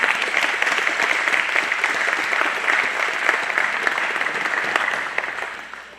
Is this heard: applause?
yes